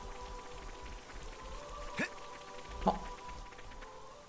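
Rain falls steadily as a soft, even patter in Xenoblade Chronicles 3, a faint continuous hiss with a couple of brief louder sounds and a short spoken exclamation.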